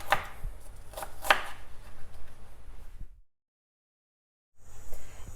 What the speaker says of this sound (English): So let's cut this up nice and fine.